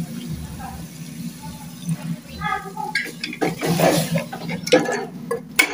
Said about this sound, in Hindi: तो अब ना मैं इसमें 1 गिलास पानी ऐड करके तो इसका ढक्कन बंद कर दूंगी।